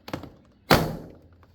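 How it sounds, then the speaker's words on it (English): Plastic clips on a Dodge Grand Caravan front door trim panel popping loose: a light tap, then a single sharp, close thunk that decays over about half a second. "pop this panel loose"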